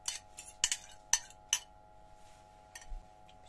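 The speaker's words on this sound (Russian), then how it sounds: "Все перемешиваю." Spoon stirring a dough mixture with beaten egg in a bowl, a few quick clinking scrapes against the dish, then softer stirring, close and fairly quiet without talk.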